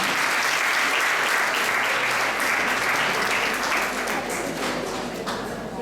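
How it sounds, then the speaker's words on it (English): A room full of people applauds to welcome a speaker at a memorial lecture, a thick, sustained wall of clapping at close range that fades a little toward the end. "Please welcome her with English round of applause."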